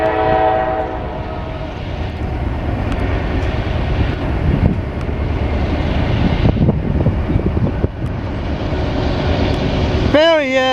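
A CSX eastbound mixed freight train rolls past in Marion, Ohio, a loud continuous rumble and clatter of cars close by, with a horn blast near the end and people's voices mixed in.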